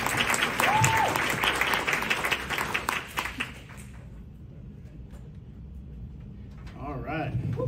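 A round of applause from the audience at a women's real estate event welcomes a speaker, steady and full for a few seconds before tapering off into quiet room noise, with a voice starting up near the end.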